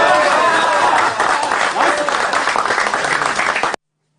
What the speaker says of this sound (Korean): 박수와 함성이 터져나옵니다.